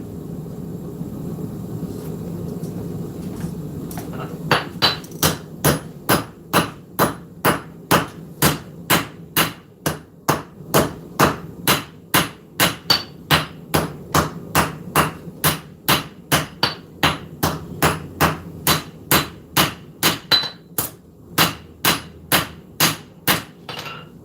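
A hammer strikes steel in a fast, steady rhythm, forging a knife, dozens of sharp ringing blows, after a few seconds of low workshop rumble.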